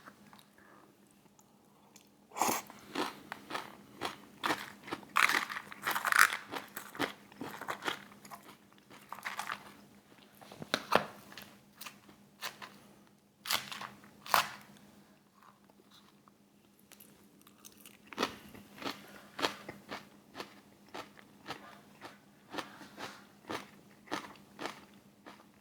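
Close, crisp crunching and chewing of El Pollo Loco food with crunchy chip pieces, bites coming in irregular bursts over a quiet background with a low steady hum.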